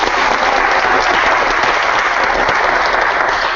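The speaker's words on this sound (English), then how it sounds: "I just wanted to clap it up and give some love to Kyle Solar, who just joined the Hive staf" Steady, dense applause from an audience at a community meetup, loud and sustained throughout with no talk over it, greeting a newly joined staff member.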